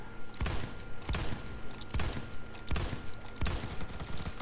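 Revolver gunfire in the video game Phantom Forces: loud, sharp shots ring out in a steady rhythm, about five or six evenly spaced bangs over a constant game background.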